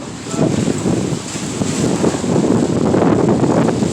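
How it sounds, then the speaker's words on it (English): Strong wind roars outdoors as a loud, continuous rush with gusty swells and buffeting on the microphone, with no voice over it. "Wow, that wind is really picking up, y'all."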